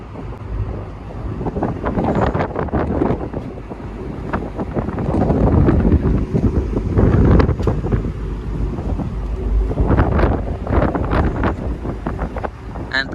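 Constant wind gusting outdoors near a tire station, roaring across the microphone in a loud, rumbling buffet that swells and eases without pause for over ten seconds.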